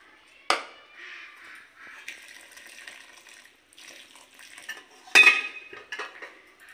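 Rice flour dough for chitoi pitha is worked by hand in a bowl with hot water, giving soft wet squelching and rubbing, broken by two sharp knocks against the bowl and light clatter, close up with no voices.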